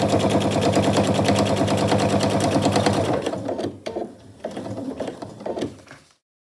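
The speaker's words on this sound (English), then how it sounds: "I'll come back and I'll do a 1/4 inch seam just so the pocket is nice and secure" A sewing machine stitches a seam on a tote bag with a loud, rapid, even clatter for about three seconds, then slows into a few separate short runs before stopping.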